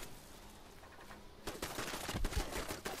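A house-mounted turret in a video game fires at the dirt. Quiet ambience gives way to a burst of rapid, loud gunfire with sharp repeated cracks, and no one speaks.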